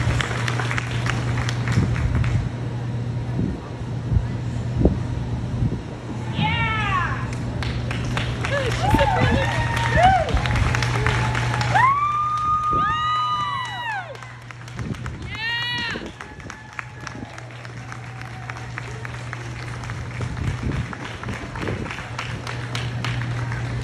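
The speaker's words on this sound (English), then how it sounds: "big round of applause on an excellent set of sheep" Audience clapping at a county livestock show sheep judging, scattered applause in the arena mixed with sheep bleating and someone speaking over a steady background hum.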